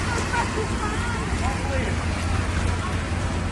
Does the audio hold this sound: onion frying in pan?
no